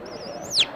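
A person's voice imitates a nightingale chick with a cold: a single wavering, whistled high tone that rises and then sweeps sharply downward into a brief squeak, heard alone and up close.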